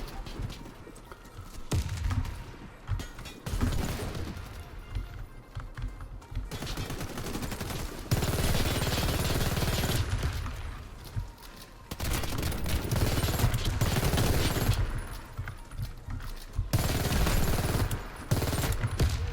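Rapid bursts of SMG gunfire from the SMG-9 Ares Gold in the online shooter Warface, loud and close, with sustained automatic strings and short pauses between them, repeating throughout amid game sounds.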